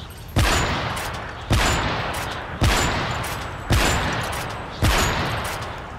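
Five evenly spaced gunshots in a video game 1v1 match, roughly one per second, each a sharp loud crack trailing off into a decaying rumble, with no voices.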